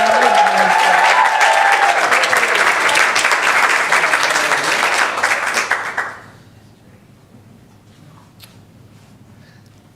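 An audience at a board of education business meeting applauds loudly for about six seconds, then the clapping fades out quickly into a quiet room.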